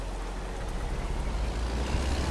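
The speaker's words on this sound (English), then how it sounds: "Truck." A truck engine rumbles in American Truck Simulator, a low, steady, fairly quiet drone with broadband road noise and no talk.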